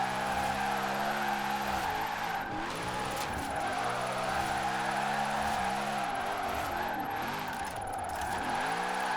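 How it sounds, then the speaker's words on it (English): A Lamborghini with a point-drift build and manual clutch slides through corners in Forza Horizon 4, its engine droning steadily with sustained tire squeal, revs dipping and rising between slides, loud and close throughout. "if you drift this thing with manual clutch, you should get like a ridiculous amount of points"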